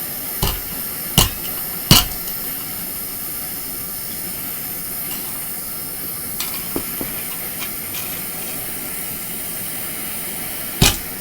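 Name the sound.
hammer flattening metal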